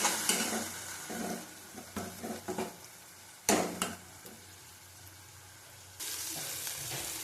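A whole tomato sautéed and stirred in a pan, with bursts of scraping and knocking from the spoon over a soft sizzle, a loud clatter midway, then a steady hiss of frying at close range.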